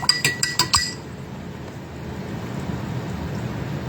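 A spoon clinking against a glass while stirring chai tea, five or six quick bright chimes in the first second, close and clear, then only quiet background hiss.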